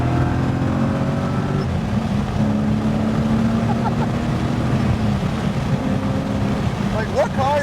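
A BMW E30 coupe with a swapped M60B44 V8 accelerating, a steady loud engine drone heard from inside the car, with people talking over it throughout.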